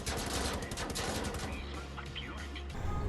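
In the Wolfenstein video game, a heavy machine gun with a slower fire rate than an MG46 rattles off a rapid, sustained burst of loud shots, with a voice talking over part of it.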